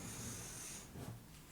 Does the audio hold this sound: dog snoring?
yes